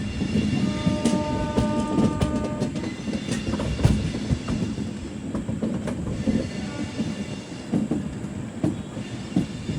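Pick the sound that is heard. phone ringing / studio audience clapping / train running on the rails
train running on the rails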